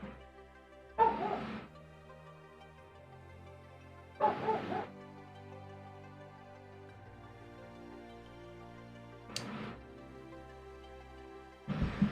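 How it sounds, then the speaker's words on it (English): Dogs bark indoors in four short, separate bursts spread over several seconds, each outburst loud and close against a quiet background. "if you hear a higher pitched bark along with Huey's, that's Huey's sister"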